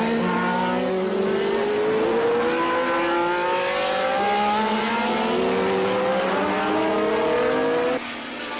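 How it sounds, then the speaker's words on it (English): Formula One cars roar past on the Brands Hatch circuit during a 1970s British Grand Prix, a continuous loud engine howl with pitch sweeps as the field streams by, dropping off sharply near the end. "And the field go by Bob Evans, a lap behind."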